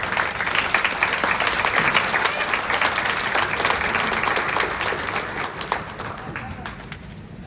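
Sustained audience applause fills a high school awards ceremony, a dense wash of many hands clapping at once with scattered voices beneath, gradually thinning toward the end.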